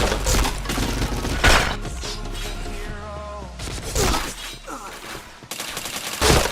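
Rapid bursts of gunfire in the PointBlank video game during headshot kills, loud volleys with short pauses between them, mixed with game effects and faint talk.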